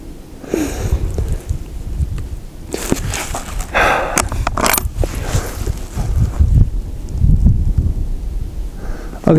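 Gusty wind at an outdoor rifle range buffets loudly and unevenly, with rushing, rumbling bursts that swell and fade across the whole stretch.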